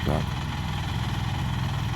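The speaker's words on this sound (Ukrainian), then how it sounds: "як я приорував кукурузу своїм міні-трактором з саморобним плугом 2х25" Mini tractor pulling a homemade 2x25 plough through a field where corn is being ploughed under, its engine droning steadily at close range with a rough, vibrating idle-like rumble.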